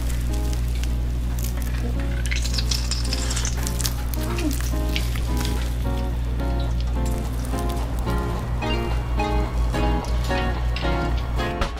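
Samlip hoppang steamed buns are deep-fried in hot oil in a Mexicana chicken kitchen, making a steady, dense crackling sizzle throughout, with faint voices in the background.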